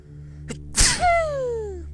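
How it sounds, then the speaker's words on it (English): A single sharp sneeze bursts out, preceded by a brief intake of breath, with a soft vocal trail afterward. "I need to sneeze."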